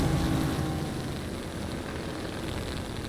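A Yak-3 propeller fighter with a VK-107 engine drones in War Thunder, a loud, steady engine roar with a broad rushing wash that holds close and unbroken throughout.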